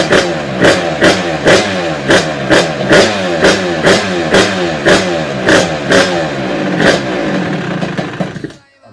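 An engine revs repeatedly in short, loud, rhythmic bursts close by, about a dozen rises in quick succession before cutting out at the end.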